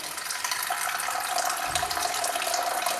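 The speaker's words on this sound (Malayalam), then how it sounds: "ഈ ഫിൽറ്ററിൽ കുറച്ച് വെള്ളം നമ്മൾ എടുക്കുന്നുണ്ട്" A steady stream of water flows continuously from a kitchen water filter into a container nearby, a constant hiss with a faint tonal ring, no voices.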